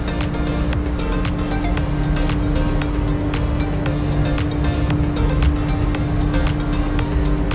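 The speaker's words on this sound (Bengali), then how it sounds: "তারপর ধীরে ধীরে লঞ্চটি এগিয়ে চলে মেঘনা ও তেঁতুলের বিশাল জলরাশির বুক চিরে" Passenger launch crossing the Meghna river, a loud continuous engine drone with a steady hum and rushing water noise, constant and close throughout.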